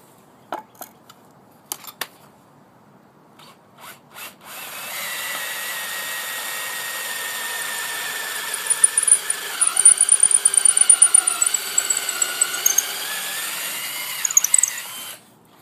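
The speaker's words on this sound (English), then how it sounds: "I drilled a hole through the wood." After a few knocks, a power drill whines steadily for several seconds, its pitch wavering and chattering as the bit bites through pallet wood.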